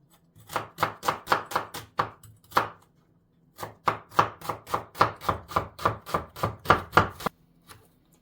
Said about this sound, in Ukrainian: Спочатку ми ріжемо цибульку дрібненько на дрібненькі-дрібненькі кубики.